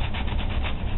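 Sandpaper rubs back and forth on a white pine wooden crankbait body in a steady, close, continuous scratchy swish.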